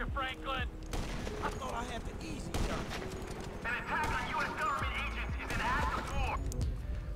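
Gunfire in GTA V during a no-damage run, with repeated shots and crackling blasts mixed with horse whinnies and game sounds while someone talks over them.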